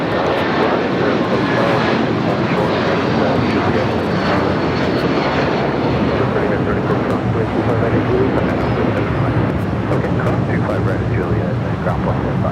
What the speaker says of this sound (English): That was the United 757 at 300 heading to Dulles, taking off on 25 right.